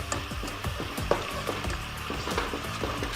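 Ginger garlic paste frying for chicken changezi gives a steady, close sizzle with soft crackles and occasional stirring clicks throughout, no voices.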